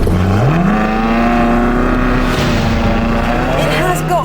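A Ferrari California in its sportiest driving setting, engine note rising steadily as it accelerates hard, a loud close sustained roar with a gear change near the end.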